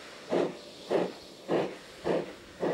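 Steam locomotive exhausting spent steam up the chimney in five evenly spaced loud chuffs, each a broad hissing burst about half a second apart, with a faint steady hiss between them.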